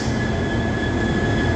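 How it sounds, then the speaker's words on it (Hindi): A Delhi-Ajmer Shatabdi Express hauled by an electric locomotive rumbles past, loud and close, a constant roar with a thin high whine held over it throughout. "ये देखिए शताब्दी एक्सप्रेस"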